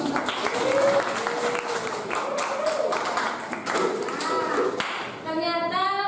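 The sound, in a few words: applause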